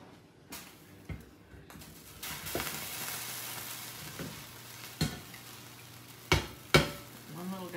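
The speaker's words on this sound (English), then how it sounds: "And now all I have to do is add the potatoes that are fork tender and drained." Drained, fork-tender boiled potatoes go into a pan of cooking cream peas and get stirred in, with a low sizzle under scattered scraping clinks and knocks of the spoon against the pan. The sound is close and fairly quiet.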